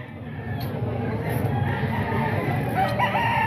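Roosters crow at a busy chicken market, their calls rising over a steady murmur of crowd noise and handling sounds, with a clearer, louder crow near the end.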